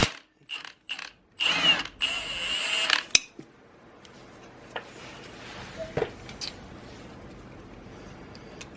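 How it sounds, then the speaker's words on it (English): A ratchet works a 14mm flywheel nut loose on a Honda CRF110 minibike: a few quick clicking bursts, then a loud sustained ratcheting run, a sharp crack as the nut breaks free, and faint scattered mechanical ticks afterward. "now we're going to pull our flywheel nut, 14mm."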